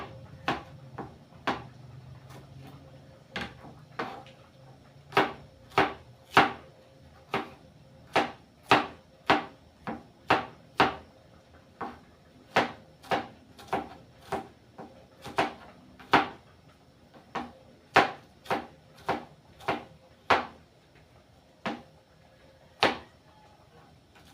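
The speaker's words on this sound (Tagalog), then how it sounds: "nagayat na natin ang sibuyas at saka bawang" A knife chops onion and garlic on a board for sautéed mung beans, giving a steady series of about thirty sharp, close cuts in an uneven rhythm, with no talking over it.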